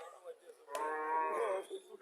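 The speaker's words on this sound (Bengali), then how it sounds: "বাছুরটা বকনা বাছুর।" A heifer calf at a dairy cattle farm gives one drawn-out, fairly quiet moo that rises and holds before trailing off, with nothing else heard around it.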